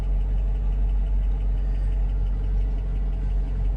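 A Mercedes engine runs steadily after a fuel pump and filter replacement, a close, even idle rumble with a constant low drone and no break for the full length.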